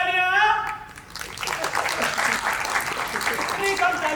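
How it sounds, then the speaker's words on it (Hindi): A theatre audience at ACP Theatre in Karachi applauds an entrance, with dense, sustained clapping that swells after a moment of talk and then carries on steadily under a voice. "आपकी भरपूर तालियों में आएगी सुपर मॉम चंद बच्चों की मां तालियां।"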